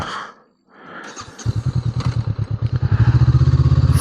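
A Honda NX500 motorcycle cuts out briefly, then its engine fires back into a loud, close, pulsing throttle run that speeds into a rapid steady beat, with no talk.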